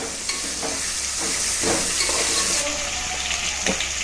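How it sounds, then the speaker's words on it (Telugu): Pieces of bitter gourd cooking in a pan with a little oil, salt and turmeric, giving a continuous bubbling sizzle with a few soft stirring knocks, steady and close, without speech. "కొద్దిగా ఆయిల్ వేసుకొని కాస్తంత ఉప్పు, కొద్దిగా పసుపు వేసి లైట్ బాయిల్ చేసుకోవాలి."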